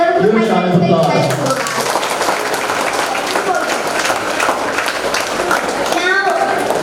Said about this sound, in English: Everyone please, a huge round of applause.